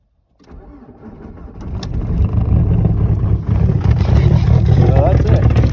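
A VW ALH TDI diesel cold-starts at 2 degrees in Michigan winter, cranking briefly from silence and then catching into a loud, rough, clattering idle that grows fuller and stays close and steady.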